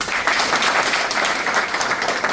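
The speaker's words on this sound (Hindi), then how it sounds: "एक बार जोरदार ताली।" Loud, dense applause from an audience at a company meeting, steady clapping filling the whole stretch without a break.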